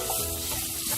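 Ingredients roast in a pan toward light brown, giving a brief, steady, soft sizzle with faint stirring texture and no voice.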